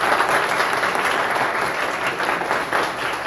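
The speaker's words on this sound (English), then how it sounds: "a huge round of applause for all of you who sat here and cheered all of us on tonight" An audience at an evening creative writing and spoken word event gives a sustained round of applause, a dense, steady wash of many hands clapping together at moderate loudness.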